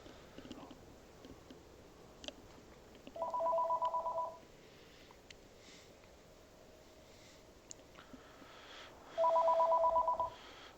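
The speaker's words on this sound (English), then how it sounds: "Is that my phone ringing?" Phone ringing in another room, heard as two separate bursts of a rapid electronic trill, moderately loud over a low background hum with no talking.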